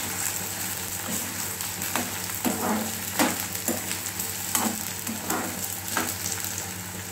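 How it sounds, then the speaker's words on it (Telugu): Okra pieces deep-fry in hot oil, cooked hotel-style at home: a continuous dense bubbling sizzle with scattered sharper pops and occasional spatula scrapes. "బెండకాయలు గోల్డెన్ కలర్ వచ్చే వరకు ఫ్రై చేసుకోవాలి"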